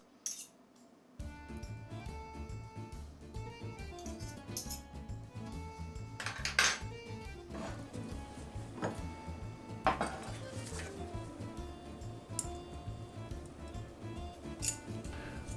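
Pasta and meatballs get tossed in a metal pan, giving a steady run of scraping, clinking and sizzling kitchen noise with a few sharper metallic knocks, close and continuous, with no talking.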